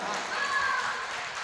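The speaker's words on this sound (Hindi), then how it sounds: "एक बार जोरदार तालियां से।" Dense applause from an audience at an open-air Hindi poetry recital in Pemapur, Sultanpur, a steady broadband wash of clapping with some voices mixed in, held at even loudness throughout.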